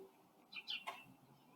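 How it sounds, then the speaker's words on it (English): Faint birds heard inside a house: a few quick, high chirps clustered in under a second against quiet room noise. "we can hear the birds, can't we?"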